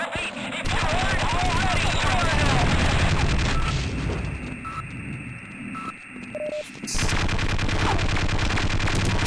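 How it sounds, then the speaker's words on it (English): A turret in Half-Life fires rapid automatic bursts, a dense rattling stream for several seconds that breaks off into electronic beeps before firing resumes, loud and close with a voice talking over it. "Oh, there's another type of turret. We've never seen that before."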